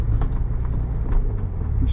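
A Nissan 300ZX fitted with cold air intakes pulls away from a parking spot, its steady low engine rumble close and continuous throughout, with a faint voice briefly audible over it.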